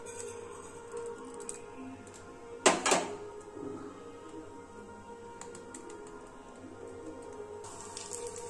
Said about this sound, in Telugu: పోపు దినుసులు వేస్తున్నానండి